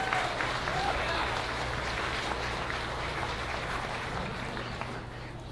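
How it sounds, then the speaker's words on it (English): Audience applause at a Stevens County 4-H beef show, a steady wash of clapping that fills the whole stretch at even loudness over a low constant hum, with no voices standing out. "give them a big round of applause for doing a great job"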